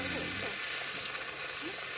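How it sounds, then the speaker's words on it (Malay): Steady, loud sizzling of freshly caught fish frying in hot oil, a continuous crackling hiss throughout. "Ikan yang kita tangkap tadi kita goreng semuanya."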